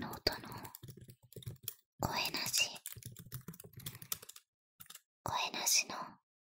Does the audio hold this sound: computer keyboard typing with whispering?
yes